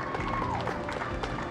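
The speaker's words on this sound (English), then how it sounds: "Small crowd, but big cheers." A small crowd at a NASA astronaut walkout for the first crewed SpaceX launch to the ISS claps and cheers. The sound is steady and slightly distant, with a commentator's voice over it.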